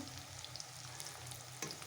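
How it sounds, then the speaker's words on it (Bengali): Potatoes fry in a pan in a home kitchen, giving a continuous low sizzle and crackle that holds steady and close for the whole short moment. "আলু ভাজতে দিয়েছিলাম দেখো একদম আলুগুলোকে পুরো ভেজে পুরো ভেজে দিছে দেখো"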